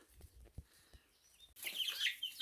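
Araucana chicks eating lettuce: soft, quiet pecks and faint peeps at first, then a sudden burst of louder, busy rustling and chirping close up.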